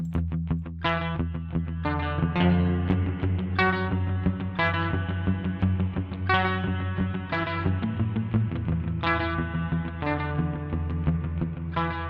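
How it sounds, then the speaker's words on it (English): A distorted electric guitar plays a repeating riff with a washy, reverberant tail, loud and continuous throughout. "Let's apply some reverb here."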